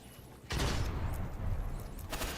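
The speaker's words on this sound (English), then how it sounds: "Here's an example of where the enemy pops a golden gun." In the video game Destiny, the Golden Gun super fires in a multiplayer Trials of Osiris match, starting with a sudden loud blast and continuing as dense rumbling gunfire that returns as a second burst near the end.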